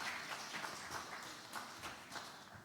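Steady audience applause at an architecture conference session reviewing workshop results, a continuous patter of many hands clapping at moderate distance with no voices over it.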